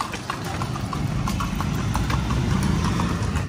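Horse hooves clip-clop at a steady, brisk pace as a kalesa carriage is pulled through Vigan streets, close and clear over low traffic and engine rumble.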